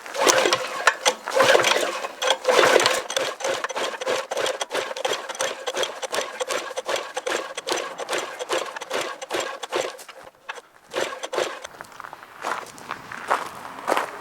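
Small garden tiller engine being pull-started with choke at about three-quarter throttle, a rapid train of ratcheting, sputtering pulls that repeat steadily without catching, briefly pausing near the end before cranking again.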